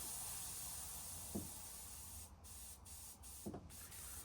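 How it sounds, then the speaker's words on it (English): Airbrush spray gun set up for painting fishing lures, releasing a steady, faint hiss of compressed air that runs alone through the whole stretch, with a couple of small clicks. "I'm going to get my gun here and get my air pressure set."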